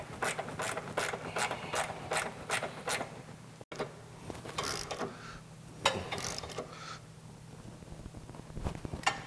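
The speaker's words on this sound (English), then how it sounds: "We're going to go ahead and tighten that up with a 13 millimeter wrench." A 13 mm ratcheting wrench tightening a bolt on the rear bumper of a Jeep XJ, producing a steady run of rapid clicking strokes, then more uneven metallic clicks and clanks, close and without talk.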